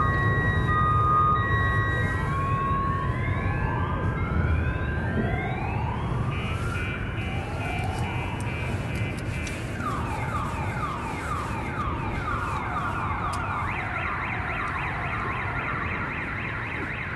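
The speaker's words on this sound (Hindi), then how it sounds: "आज जैसे ही मिसाइल अटैक हुआ उसके बाद राजधानी कीव में सायरन बजा है" An air raid siren wails over Kyiv after a missile attack, with long rising and falling tones overlapping and sweeping continuously, loud and sustained, with no voices.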